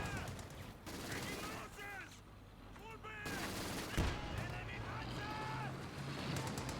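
Gunfire in the World War II strategy game Company of Heroes 2, bursts of rifle and machine-gun fire crackling through a busy battle mix, heard under continuous commentary.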